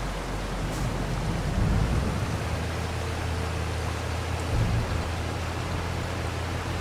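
Steady rain hisses softly and evenly in Farming Simulator 22, a faint constant wash of falling drops with a couple of low thumps from machinery underneath.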